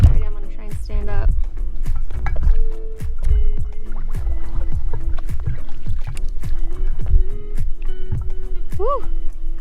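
A paddle board moves across water in Colorado with repeated splashy paddle strokes close by. People talk and laugh over them.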